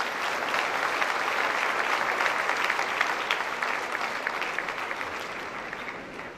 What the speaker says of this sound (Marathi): पुनश्च एकदा जोरदार टाळ्या झाल्या पाहिजेत.